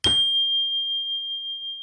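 A meditation bell is struck once, giving a sharp attack followed by a single clear, high ringing tone that sustains and fades slowly into silence.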